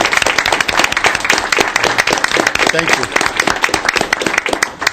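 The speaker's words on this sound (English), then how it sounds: "we're going to give you a round of applause for the years that you put into this" Audience applause at a Bristol town council meeting, a dense, steady wash of clapping that fills the whole clip, loud and close, with a brief spoken word over it.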